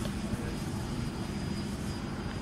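An H King Focke Wulf Fw 190 model airplane with a 1200mm span drones overhead, a steady, fairly distant engine hum under faint wind and background noise.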